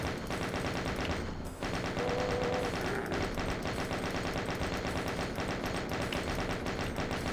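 Steady, rapid machine-gun fire in Doom aimed at spider enemies, loud and continuous with a brief dip partway through.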